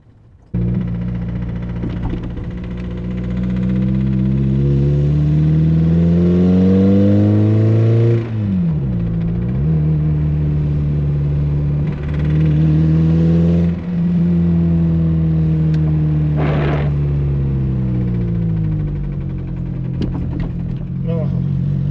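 A Toyota MR2 engine runs low and rough at idle and low RPM, rising and falling in pitch with revs, a steady rumbling drone with uneven knocking underneath.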